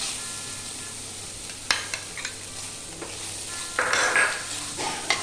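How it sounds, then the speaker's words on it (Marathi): Finely chopped broccoli frying with softened onions in a pan: a steady sizzle with scraping stirs and a few sharp clinks of a spoon against the pan. "आता त्यात ही बारीक चिरलेली जी ब्रोकली आहे ती मी घालणार आहे."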